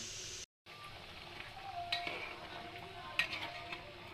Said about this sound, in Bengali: এখন মুরগিটা দিয়ে আবার করে কষাইতেছি